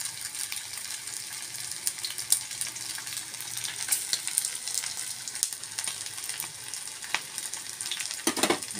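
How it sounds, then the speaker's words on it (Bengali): Bora fritters frying in hot oil, a continuous close sizzle with dense crackling and occasional louder spits and pops throughout. "বড়াগুলোকে গরম গরম ভেজে নেবো এখন আমি"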